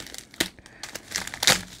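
A taped mail package of trading cards being torn open by hand, with close, crinkly ripping and crumpling in several quick bursts.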